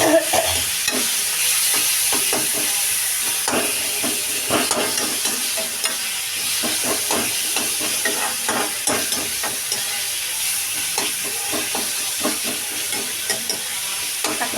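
Tomatoes fry with onion and garlic in a pan for kara kuzhambu, giving a steady sizzle broken by frequent scraping stirs, heard alone without talking.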